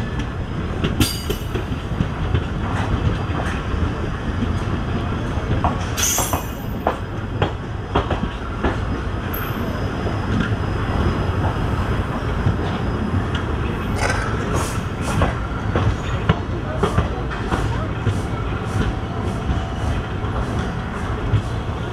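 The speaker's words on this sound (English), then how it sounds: "We are crossing a freight train through a loop line" A passenger train runs slowly along a loop line past a waiting freight train on a hot summer day, with steady rumbling wheels, clickety-clack joints and occasional sharp squeals close by throughout, no voices.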